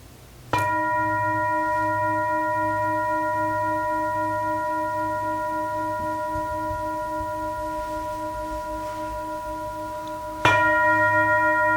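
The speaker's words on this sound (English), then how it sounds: "the third ring of the bell" A mindfulness bell is struck twice, about ten seconds apart, each strike leaving a long, clear, steady ring that fades slowly through a quiet setting with no talk.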